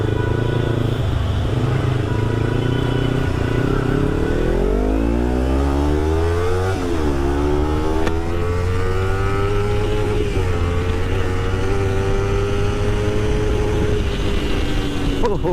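A modified carbon-fibre Kawasaki Ninja 300 motorcycle revs loudly and repeatedly up and down, its exhaust crackling and popping between sweeps, close by with a voice speaking over parts of it.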